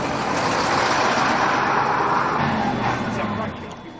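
Road traffic heard from aboard a moving bus, a steady broadband roar of engine and tyres that holds level and then eases off toward the end.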